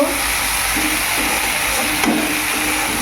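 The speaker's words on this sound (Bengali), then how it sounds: "তো আমি পেঁয়াজটাকে দিয়ে দিচ্ছি। তো পেঁয়াজটাকে দিয়ে নাড়াচাড়া করব।" Onion sizzling in a hot pan while being stirred, a steady frying hiss with faint scraping touches throughout.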